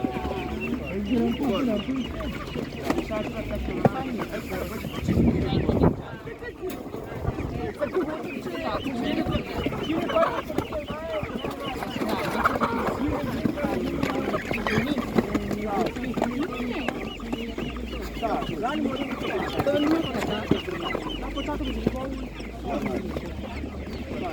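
Chickens and broilers cluck and squawk steadily at a poultry stall in a Ukrainian market, mid-distance and continuous beneath nearly constant conversation and bargaining voices.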